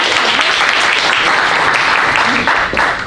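An audience at a cookery demo at an awards event breaks into loud, dense applause that holds steady and tapers slightly at the end.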